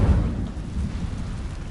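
An Incendio fire spell cast in a video game, a loud low rumbling whoosh of flame that roars steadily for a moment.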